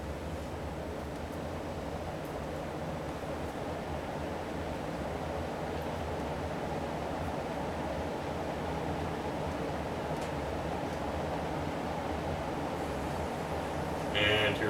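An Encon Crompton Greaves High Breeze Classic 48-inch ceiling fan runs at fourth speed, giving a steady, soft, even whoosh of moving air that continues unchanged, with a brief knock near the end.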